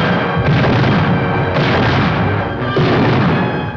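A volley of musket fire rings out after a shouted command to fire, as British troops fire on militia at Lexington, with dense overlapping blasts and rumbling booms in several loud bursts over the span, with no talk.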